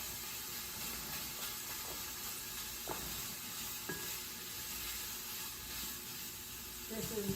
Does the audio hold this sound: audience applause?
no